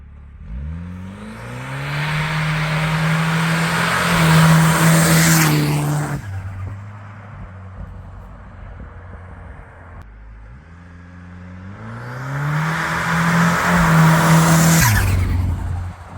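Commer turbo van drag racing at a street weekend event, two loud full-throttle runs with the engine revving up through rising gear pulls, a quieter idling lull between them, no talking.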